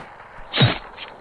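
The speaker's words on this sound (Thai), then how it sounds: "โลกระเบิดแล้วครับ" Planet Earth blowing up in a space video game: a single short, sharp blast bursts out of near silence and fades within a fraction of a second.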